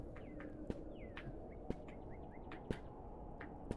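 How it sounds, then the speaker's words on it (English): Short bird chirps and whistled calls repeat at a moderate distance in a horror video game, set over a soft ambient bed with occasional sharp ticks or footfalls. "I can hear birds."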